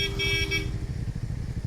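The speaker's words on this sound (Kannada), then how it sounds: "okay nice horn" A motorcycle horn on a hill road ride between Ooty and Coonoor, likely from a KTM 390 Adventure or Dominar 400, blares steadily for under a second over the low rumble of engines, which keeps going after it stops.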